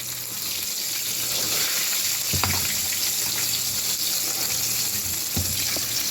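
Chicken wings deep fry in oil, a loud, constant close-up bubbling sizzle throughout, with a couple of faint knocks from handling the pan and no speech.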